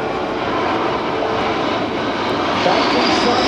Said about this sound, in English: Now watch the speed come up. As it comes by, it's going to demonstrate the extremely tight turning radius of this huge airplane.